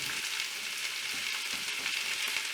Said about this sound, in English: Once my oil is nice and hot, I'm going to dump in my carrots, celery, and onions.